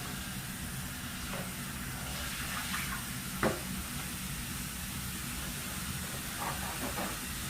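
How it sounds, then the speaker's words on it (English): A bedpan rinsed under running water, a continuous hissing stream close by with occasional faint clanks and knocks of the pan against the sink. "And I'm going to wash the bedpan."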